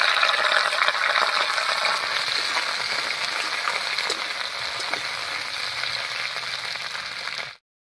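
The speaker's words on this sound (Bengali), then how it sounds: "এবার কড়াইয়ে সরষের তেল দিয়ে ভেন্ডিটা হালকা করে ভেজে নেব।" Okra frying lightly in mustard oil in a wok, a steady bright sizzle that holds evenly at moderate loudness before cutting off abruptly at the end, with no talk.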